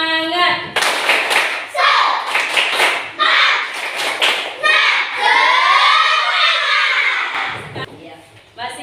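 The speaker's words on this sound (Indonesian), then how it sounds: "kita tepuk semangat dulu" A classroom of children doing the tepuk semangat clapping chant in an Indonesian Islamic education lesson, rhythmic patterned handclaps alternating with loud shouted chanted phrases, close and energetic.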